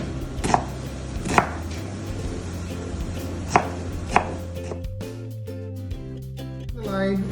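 A knife slices through an onion on a cutting board in a few sharp, spaced chops, with a voice talking in between the cuts.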